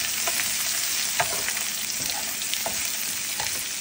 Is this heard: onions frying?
yes